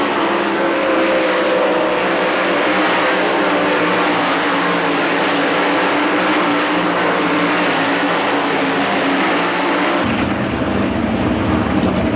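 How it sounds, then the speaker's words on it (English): Dirt track race car engine at Eldora Speedway, a steady loud broadband roar filling the whole stretch, with the tone shifting abruptly near the end as the car rolls onto the racetrack. "David Gravel rolls onto the racetrack out of Watertown, Connecticut"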